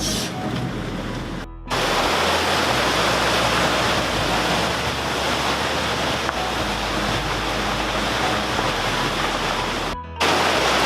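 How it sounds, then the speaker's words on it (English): Rushing water of the Tallulah River, a loud, steady broadband roar close by, with brief dropouts near the start and near the end. "I think this is the Tallulah River."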